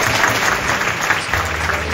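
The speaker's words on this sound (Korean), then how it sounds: "하나님께 영광의 박수 올리겠습니다" A congregation at a Christian conference gives applause to God in a hall, a dense, steady roar of clapping at close range, with a low hum underneath.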